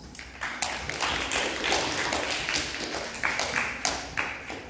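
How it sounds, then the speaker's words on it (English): An audience at a debate competition final applauds, a dense run of clapping with sharper individual claps standing out, held steadily for several seconds. "Please give applause."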